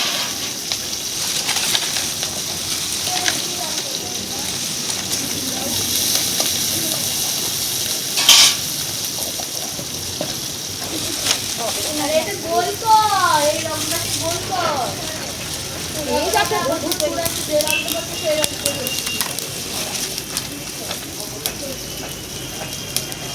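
Onion, green chilli and garlic fry in oil in a wok with a steady close sizzle, stirred with occasional scraping clatters, while someone talks over the cooking.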